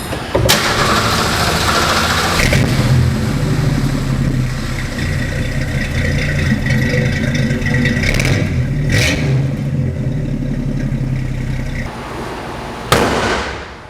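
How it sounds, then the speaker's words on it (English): A car engine cranks and catches after a jump start from a portable 12-volt jump starter, then runs loud and steady at close range, with a couple of sharp clicks and pops along the way. "So I'm going to go ahead and fire it up."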